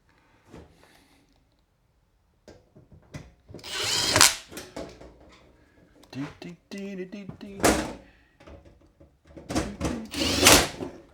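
A power drill drives screws to fit a solar panel cover on an off-grid solar build, in several short whirring bursts separated by pauses, with knocks and brief talk between them.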